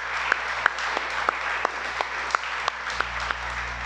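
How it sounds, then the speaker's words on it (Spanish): Congregation clapping at a Shabbat church service, a steady dense round of applause with sharper individual claps standing out at regular intervals, no speech over it. "Denle un aplauso, por favor."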